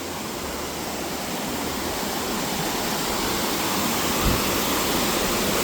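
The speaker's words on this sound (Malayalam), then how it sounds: "വെള്ളം ഇങ്ങനെ ഒഴുകി ഒഴുകി ഒഴുകി അടിയിലേക്ക് പോണേണ്" Water rushes down forcefully in a dense, unbroken roar, like a waterfall or strong stream in Mizoram, steady and loud throughout.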